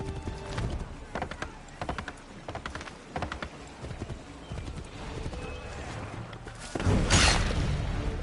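Horse hooves clip-clop and gallop in Assassin's Creed III, a steady run of hoofbeats with an occasional whinny and a louder burst near the end, while a player talks over the game audio.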